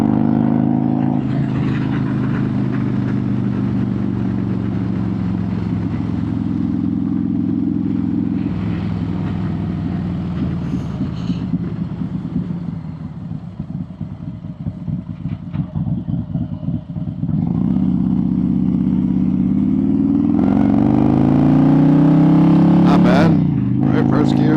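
A Harley-Davidson motorcycle running its most aggressive Tury sport map, a deep close engine rumble that dips and then revs up with rising pitch, with someone talking over it.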